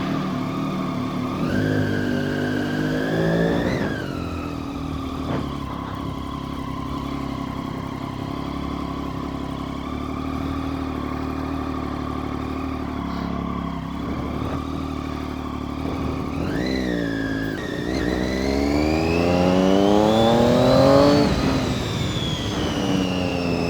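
Triumph Daytona 675 motorcycle engine heard while riding, a steady loud engine drone with rising revs and shifting pitch sweeps, close and continuous with no talk.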